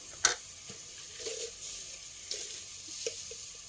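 Spices sautéing in a pan for cauliflower sabzi produce a faint, low sizzle, broken by a sharp clink at the start and a few quiet spoon stirs.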